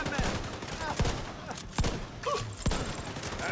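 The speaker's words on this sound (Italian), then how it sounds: "Fornisco fuoco di copertura!" Rapid bursts of gunfire in the video game Tom Clancy's The Division 2 crackle repeatedly, with sharp shots scattered over a steady din of combat noise and electronic effects.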